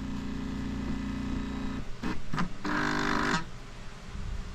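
A faulty printer's scanner motor strains in a low, rough whir, swelling into a louder buzzing burst near the middle before settling back to a steady hum.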